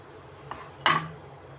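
A metal wok is set down on a stove: a small tap, then a sharper metallic clank with a short ringing tail, fairly close against quiet room tone.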